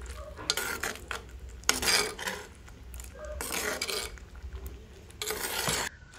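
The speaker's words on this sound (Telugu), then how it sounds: "ఇలా వేసుకున్న తర్వాత ఒకసారి మంచిగా కలిపేసేసుకొని" A spoon stirs tomato puree into an Andhra-style prawn curry in a pot, with repeated scraping, clattering strokes in bursts and a faint sizzle underneath, with no talking.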